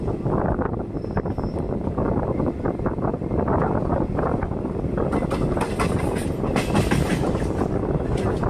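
Chamundi Express passenger train running along the rails, a loud continuous rumble and rattle of wheels with wind buffeting, steady throughout with no voices.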